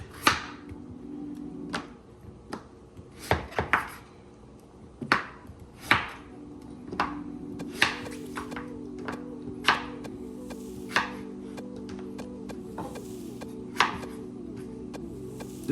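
A knife cubes butternut squash on a cutting board, giving sharp, irregular chops and taps close by, separated by short pauses, over a quiet background hum.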